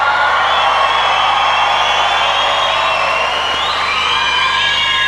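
Huge stadium crowd of about 30,000 fans in LA screaming and cheering for Gene Simmons, a continuous dense roar of shrill voices and whoops with no breaks.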